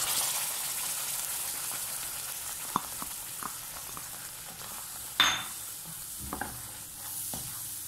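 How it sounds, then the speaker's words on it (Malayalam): Onion and tomato gravy for paneer butter masala is stirred in a hot pan, a steady close sizzle and frying hiss broken by occasional spoon scrapes and taps, with no talking. "നന്നായിട്ട് ഇളക്കണം."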